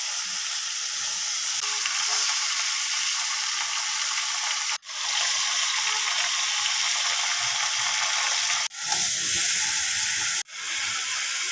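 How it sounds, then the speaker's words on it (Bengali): A loud, steady sizzle fills the air as marinated mutton fries in a hot pan for a Kolkata-style garlic mutton curry, broken by a few brief dips where stirring pauses, with no voices. "এবারে খাসির মাংসগুলো মাখিয়ে রেখেছিলাম সেটা দিয়ে দিচ্ছি আমি"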